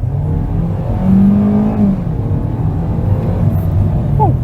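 A 2026 Hyundai Venue GLS's 1.6-liter engine with 6-speed automatic hums and rises as it accelerates in sport mode, a steady droning pull heard from inside the vehicle, with a brief whine near the end.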